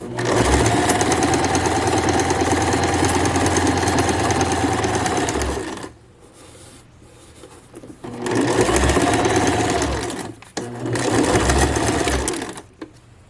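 A sewing machine stitches a dress hem in a loud, steady whirring run, pauses briefly, then resumes in two shorter bursts for the backstitch, with no talking.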